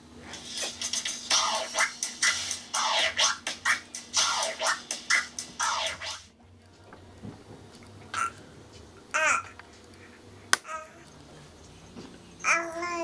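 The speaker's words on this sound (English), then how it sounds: "With the fader clicks added, it sounds like this." Rapid turntable scratches chopped by clicking fader cuts on a Pioneer DJM-S9 mixer setup, a fast stuttering rhythm for about six seconds, followed by quieter sparse sounds and a few short bursts.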